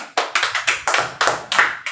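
Classroom pupils clap together in an uneven, fast series of about ten sharp bursts over two seconds, close and loud with no talking.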